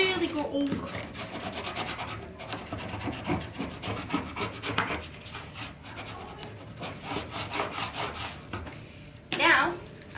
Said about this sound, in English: I'm gonna take my bone folder, and I'm just gonna really, really, really go over it.